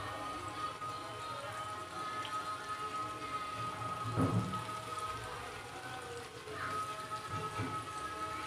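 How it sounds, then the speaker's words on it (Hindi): Chicken fingers frying in oil: a steady, dense crackle and sizzle with no pauses, faint and fairly close, with a few louder pops rising out of the bubbling. "उसी ऑयल में मैं दोबारा इसे फ्राई करूँगी"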